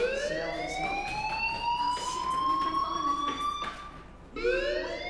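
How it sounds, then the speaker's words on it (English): A fire alarm in the video game Life is Strange wails in rising and falling sweeps, loud and close, cutting out briefly before starting another rising sweep near the end. "Hey, do you hear that fire alarm?"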